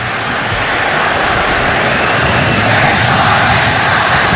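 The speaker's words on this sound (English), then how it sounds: "it lit up the crowd here at the GBK" A huge stadium crowd at GBK stadium roars during an Indonesia versus Japan U19 football match. The sound is a dense, loud, continuous wash of noise that swells slightly toward the end, with no voice standing out.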